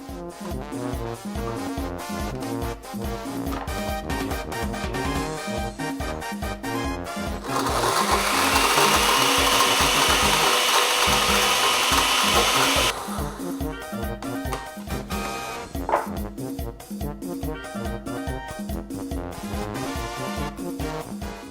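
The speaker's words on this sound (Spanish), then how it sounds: "el número máximo de camarones que podemos poner en la licuadora para que salga muy bien molido" A blender grinding dried shrimp whirs with a rattling, chopping churn, then roars louder and smoother for several seconds before dropping back to a clattering grind.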